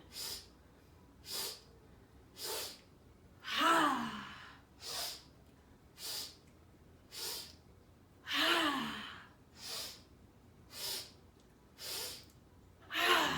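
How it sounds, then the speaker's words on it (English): Slow breathing exercise for young children, with a regular series of soft, airy breaths in and out and two longer, deeper inhales, close and clear, with no talking. "Breathe in."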